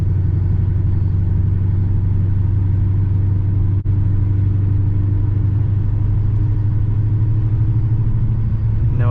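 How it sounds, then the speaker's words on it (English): A 2006 Pontiac GTO cruises with a steady low engine drone and road rumble heard from inside the cabin, an even hum holding throughout with a single brief thump near the middle. "Car's driving great."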